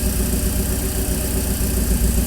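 A steady, low engine idle at about 900 rpm rumbles continuously in an overheating motorhome, even and close, with a faint mechanical vibration and no voices.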